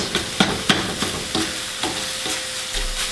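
Ground beef fries with a steady sizzle in a pan while a utensil scrapes and breaks it into small crumbles, giving repeated close stirring knocks with no talk.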